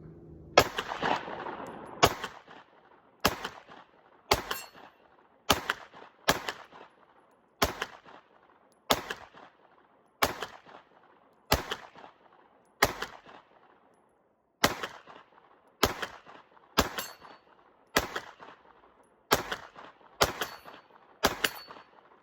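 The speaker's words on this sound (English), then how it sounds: "I am shooting pretty far away, so probably at least 30 yards." Glock 19 Gen 5 pistol firing 115-grain full metal jacket rounds at a target around 30 yards out, about seventeen sharp, loud shots in a steady paced rhythm, each followed by a short echoing tail, with no talk.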